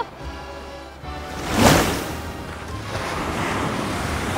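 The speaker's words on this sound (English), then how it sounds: "Oh my God, the waves are so crazy." Ocean waves crash against a rocky coast on Korea's east coast in Gangwon-do, a loud surge building to a near, heavy break, then a steady roar of surf with wind noise, no talking.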